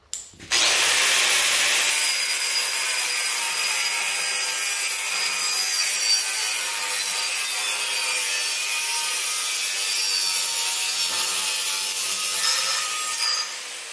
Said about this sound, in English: So I'm just going to take the grinder here now, hold it straight, and just going to cut straight across.